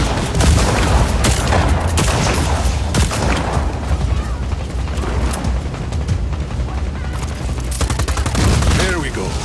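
Dense, continuous gunfire and explosions rip through a Just Cause 4 battle as wind cannon combustion chambers get blown apart, loud and chaotic throughout, with a voice talking over the din.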